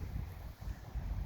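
Strong wind gusting outdoors, with a low rumbling roar that swells and dips in buffeting waves against the microphone, close and steady, with no voices.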